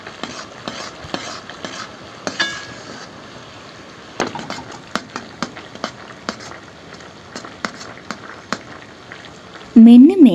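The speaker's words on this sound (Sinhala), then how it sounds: "සීනි ටික හොඳට බුබුලු දානකන් හැඳි ගාන ගමන් ලිපේ තියාගන්න ඕනේ" A spoon scrapes and taps around a pan of bubbling sugar syrup cooking for coconut toffee, irregular clacks over a low simmering hiss, ending with a brief loud burst.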